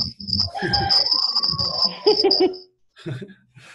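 A steady high-pitched cricket chirp runs through the first few seconds beneath overlapping voices and giggling, then stops as a brief voice follows.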